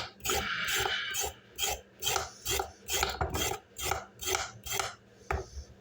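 Rhythmic rasping scrapes of a sharp chef knife blade peeling a carrot, about eleven even strokes close up in a kitchen, no talking.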